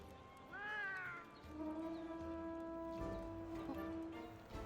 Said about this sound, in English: I love this cat so much